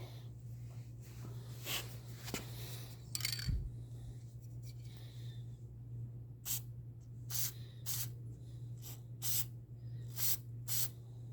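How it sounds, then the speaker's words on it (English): Several short bursts of aerosol foam air filter oil spray into a pit bike's foam filter, a few early and then a rapid series of quick hissing squirts close by, over a low steady hum. "spray a little foam filter oil in there"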